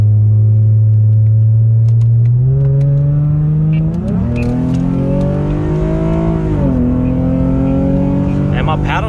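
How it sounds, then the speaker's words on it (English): A 2007 Lexus IS350 engine revs up in steps as the paddle shifter downshifts in sport mode on a freeway, heard from inside the cabin as a loud, steady drone with rising pitch. "I'm gonna be putting it into sports mode and I'm gonna downshift once we get on the freeway here"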